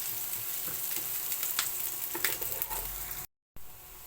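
Garlic frying to golden brown in a pan for a vegetable sauté with dried shrimp: a steady, close hiss and crackle with occasional stirring scrapes, broken by a brief silence near the end, no talking.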